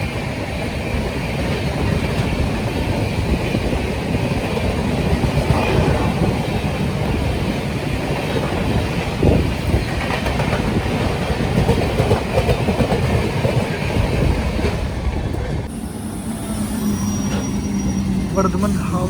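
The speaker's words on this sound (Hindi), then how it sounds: "राजधानी एक्सप्रेस" A Rajdhani Express rushes past on the rails, heard from aboard a moving express train on the Howrah–Bikaner route. A loud, continuous rumble and clatter of wheels over rail joints fills the scene, and the tone shifts abruptly near the end.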